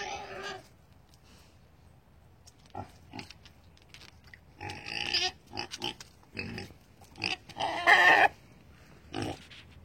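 A pot-bellied pig squeals in short, piercing bursts, loudest near the end, separated by quiet gaps, with some rustling and handling noise.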